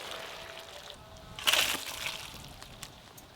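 Boiled mixed vegetables poured out of a pot give a short, soft slosh and splash of water in the middle, with faint trickling around it in a quiet kitchen.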